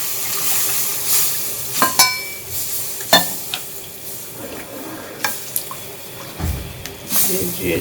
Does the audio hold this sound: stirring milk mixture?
yes